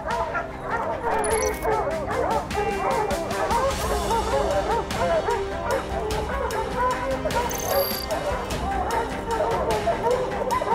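Hunting dogs bark and yip excitedly at a cougar treed on a mountain lion bow hunt, a dense, loud, continuous chorus of overlapping barks and whines close by throughout.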